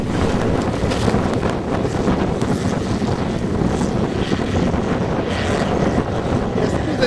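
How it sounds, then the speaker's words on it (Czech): Strong wind buffeting the microphone throughout, a loud continuous roar with gusty low rumble and no pauses. "Je skutečný ten vítr."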